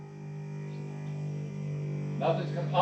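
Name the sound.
1993 Mustang fuel pump running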